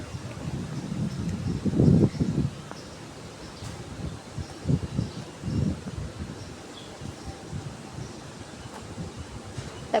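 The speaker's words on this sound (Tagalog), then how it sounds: "Sobrang hangin dito guys." Strong wind gusts across a condominium pool deck, buffeting and rumbling in uneven surges with a steady rushing background.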